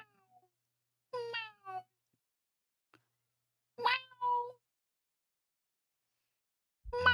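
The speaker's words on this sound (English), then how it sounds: "I hear Wormy in the other room going, meow" A house cat meows from another room, several separate drawn-out cries with long silent gaps between them, faint and somewhat distant.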